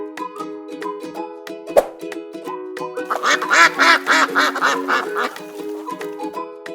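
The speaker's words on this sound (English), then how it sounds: "Ducks can produce more eggs than chickens." A farm duck quacks repeatedly, loud and close, first in sparse single calls and then in a rapid cluster of harsh honking quacks before trailing off.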